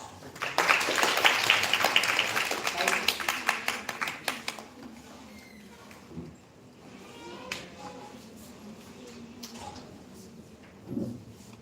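Audience at a college of education workshop in Chandigarh applauding to welcome a speaker, a burst of clapping for about four seconds that fades quickly into quiet room noise with a few faint knocks and shuffles.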